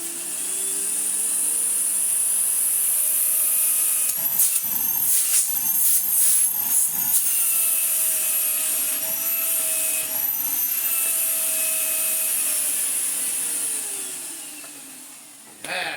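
A modified RGB-lit vacuum cleaner fitted with a 2,200 watt Miele motor runs steadily with a loud, high airflow whine and hiss that shifts pitch slightly before winding down near the end.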